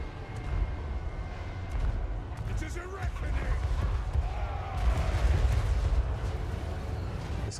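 Repeated booming cannon blasts and explosions from Total War: Warhammer III, ship cannons at sea, with rumbling low-end impacts over a steady noisy background.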